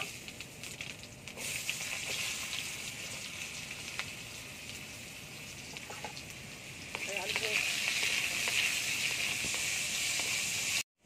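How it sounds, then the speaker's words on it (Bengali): Potatoes frying in mustard oil with cumin seeds give off a steady, close hiss and sizzle that swells louder partway through, with faint crackles and a voice murmuring under it. "একটু সরষের তেল দিয়ে দেবো, জিরে ফোড়ন দিয়ে দেবো, আলুটা ভেজে নেব।"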